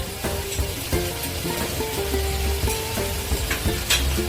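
Okra masala with turmeric paste fries in a pan, a continuous close sizzle broken by scraping stirs of the spoon against the pan, steady and unaccompanied by talk.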